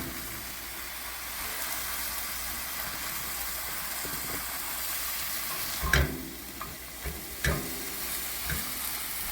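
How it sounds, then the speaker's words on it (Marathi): Cabbage sabzi being stir-fried in a pan at home: a steady soft sizzle throughout, with a few sharper clatters and scrapes of the spatula near the middle, no voices. "आता हे छान परतून झालं आहे."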